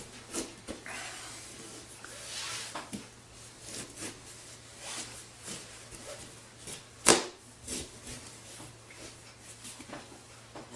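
A knife saws through a pumpkin down the middle, making a series of close, uneven rubbing and scraping strokes with one sharp crack partway through.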